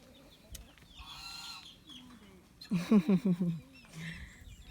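Young chicks and hens clucking on a farm plot where durian trees are being planted, a burst of rapid clucks in the middle, with a person talking nearby.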